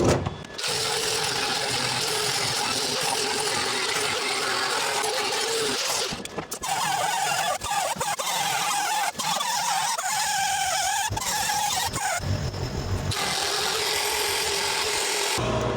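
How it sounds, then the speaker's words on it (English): Power grinder dressing down welds on patch panels of a car body around the headliner bow, a loud continuous abrasive grinding that lasts throughout with brief pauses and restarts. "Now for the best part, grinding all these welds down."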